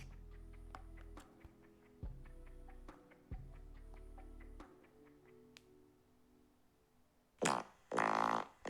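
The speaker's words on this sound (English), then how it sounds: "Hey Siri, play a fart sound." A low, sputtering fart sound effect played by Siri plays in a few long bursts, followed by a couple of loud, brighter blasts near the end.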